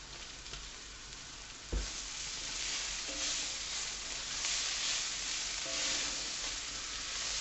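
Powdered spices sizzle steadily in hot oil in a pan for a four-bean chilli, a continuous close frying hiss with a sharp knock near the start and light stirring scrapes.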